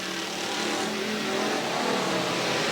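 A race car spins out during a 1989 race at Willamette Speedway, its engine a steady, fairly distant roar with a dense wash of track noise around it and no clear voices.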